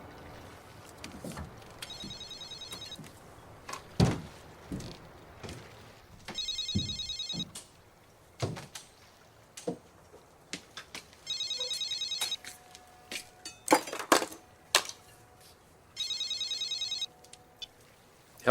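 A telephone left aboard a boat rings in four regular bursts of electronic trilling, each about a second long with pauses between, amid faint knocks and background noise.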